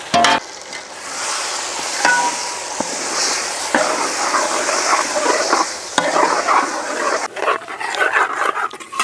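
Goat lungs, heart and liver sizzle loudly in a hot pan with curry leaves, a dense steady hiss broken by a few sharp clinks of a utensil stirring, with no talk.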